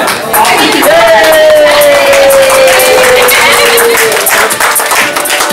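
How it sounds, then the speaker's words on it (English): A crowd at a Scrum meetup claps for a team during a balloon tower game, a steady dense wash of applause lasting several seconds, with a sustained tone running beneath it. "let's clap for the team first"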